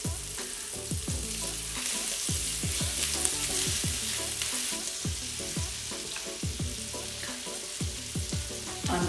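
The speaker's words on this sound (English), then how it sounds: "And we're going to add our onions. I'm going to add a little bit of butter." Onions sizzling in oil and butter in a pan while cooking a mussel dish, steady close frying hiss with regular scraping stirs of a utensil against the pan.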